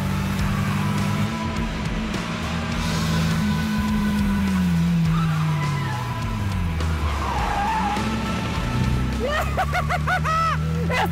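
Cars racing in a scrapyard challenge, engines droning and revving near and loud with long tire squeals and skidding through the turns, sweeping pitch changes continuing throughout.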